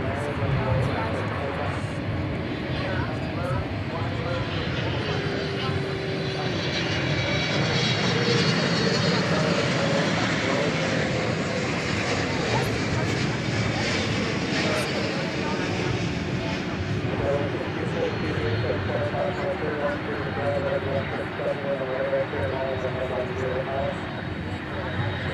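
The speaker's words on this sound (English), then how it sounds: "So we've got 2 inbound American Airlines triples." An inbound American Airlines Boeing 777 at DFW Airport at night produces a sustained, broad jet rumble with a steady engine tone, fairly loud and continuous, while a person talks over it throughout.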